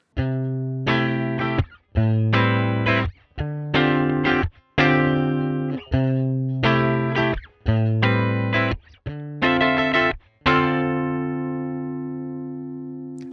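A distorted electric guitar through a simulated Fender '57 Custom Twin amp, recorded with two mics including a condenser, plays chunky repeated chords in a steady rhythm, each strum ringing briefly before short pauses, with a long final chord left to fade.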